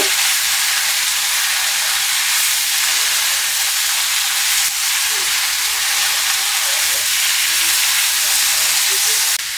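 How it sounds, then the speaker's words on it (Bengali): Spinach being stirred into a mixed vegetable curry in a hot pan, giving a loud, steady steamy hiss throughout with faint stirring touches. "পালং শাক দিয়ে আমি একটু নেড়ে চেড়ে নেব"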